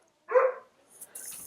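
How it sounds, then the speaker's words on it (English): A pet dog gives one sharp bark nearby, followed by softer rustling and noise, with no talk over it. "Oh, sorry, it's my dog."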